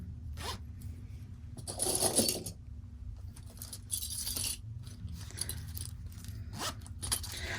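A zipper on a small fabric coin pouch is pulled open and closed in several short rasping bursts, close and distinct, separated by quiet pauses with faint handling noises.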